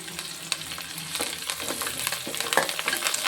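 Onions and curry leaves frying in a pan for a Tamil fish curry, a crackling sizzle with scattered sharp pops and spatter, fairly close and with no speech.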